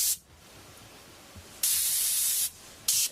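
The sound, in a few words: airbrush spraying gray paint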